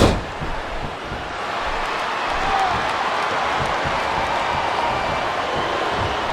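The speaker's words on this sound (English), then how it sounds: "This capacity crowd is making their opinions known tonight." A capacity arena crowd in the WWE SmackDown vs Raw 2008 video game on Xbox 360 keeps up a steady, dense roar of cheering throughout a women's match, loud and unbroken with no clear peaks.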